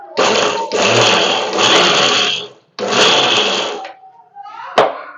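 Mixer grinder whirring through cumin, pepper, garlic, curry leaves and coriander for tomato rasam, loud in several bursts of a few seconds each with short pauses between, then a brief clatter at the end.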